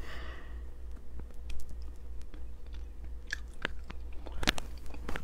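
Someone chews a hard, sugary Japanese snack with a texture like a stale Tootsie Roll, giving close, soft irregular chewing and crunching sounds and a few sharper bites near the end, with no talk.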